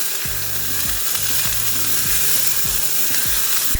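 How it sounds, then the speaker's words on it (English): Vegan omelette batter sizzles steadily in a frying pan, a close, continuous hiss with a few soft low knocks from the pan, and no talking. "I intended to saute the veggies before I put the batter on the pan"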